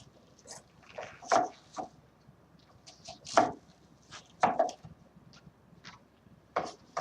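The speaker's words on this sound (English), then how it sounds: "you just cut down through it and you get nice diced onion rings" A knife dicing an onion on a cutting board gives scattered sharp taps, irregular and fairly close, with quieter rustling between the louder chops.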